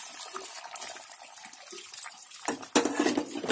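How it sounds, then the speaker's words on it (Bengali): Small fried fish go into a pan of bubbling bori gravy, with soft clinks and liquid sloshing that turn into a louder splash and a vigorous bubbling near the end. "এবার আমি দিয়ে দিচ্ছি সমস্ত ভেজে রাখা মাছগুলো"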